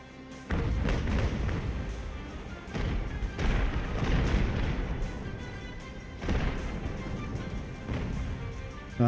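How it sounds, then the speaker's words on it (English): Naval cannons firing in the Ultimate Admiral: Age of Sail game, a rolling series of heavy booms with dense rumbling reports, several big blasts spaced a few seconds apart over continuous battle din. "But come on, cannons."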